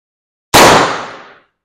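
A single loud gunshot from a Puma carbine with a 20-inch barrel cracks sharply out of silence and rings off in a short decaying tail.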